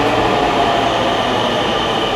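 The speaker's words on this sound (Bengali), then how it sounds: "দেখেন একটা মেট্রো চলে আসছে" A Dhaka metro rail train arrives at a station, its steady loud rumble and broadband rush filling the space continuously without a break, with no voices over it.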